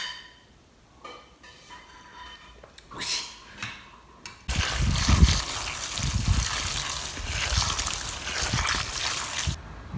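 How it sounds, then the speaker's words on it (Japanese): Bell peppers are washed in water, first with brief faint splashes and clinks, then a sustained loud rush of running water from a tap as the peppers are rubbed under the stream. "パプリカを水でよく洗います。"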